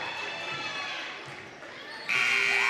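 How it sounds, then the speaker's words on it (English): A loud, flat electronic buzzer blares over crowd noise in an indoor gym at a girls' high school basketball game, cutting in abruptly near the end. "As the buzzer sounds, your final score"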